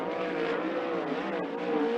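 A 410 sprint car on a qualifying lap at Skagit Speedway, its high-pitched engine screaming steadily at a distance with slight rises and dips in tone.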